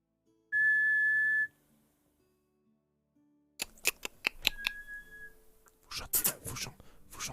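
A single steady, bright whistle tone from an Unlock! board game app sounds for about a second, then silence, followed by a run of light clicks and tapping noises.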